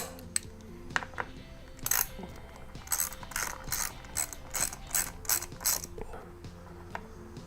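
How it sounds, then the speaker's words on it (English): A socket ratchet clicks in several quick bursts as bolts are loosened on a Vulcan 750 motorcycle, the pawl's rapid clatter close and crisp against a quiet garage background. "now we're gonna have to take off these bolts"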